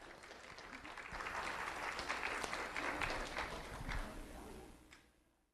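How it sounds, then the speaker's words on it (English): Applause for a fifth-grade student at a sheriff's office recognition event, a crowd clapping steadily for several seconds before fading out at the end. "Let's have a round of applause for Tristan Ruiz"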